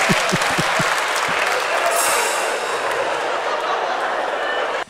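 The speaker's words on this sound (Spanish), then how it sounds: "un fuerte aplauso" Audience applause at a live comedy show, a thick sustained burst of clapping from the crowd that cuts off abruptly at the end.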